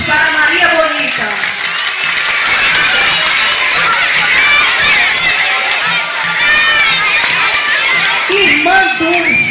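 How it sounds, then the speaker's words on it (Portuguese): A loud crowd at a live cultural event in Coité, Brazil, cheers and shouts continuously, with high excited voices, clapping and chatter blending into a dense, close roar. "Aplausos para Maria Bonita."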